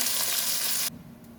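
Loud steady sizzling of fish heads frying in hot oil, cutting off abruptly after about a second to a quieter hiss.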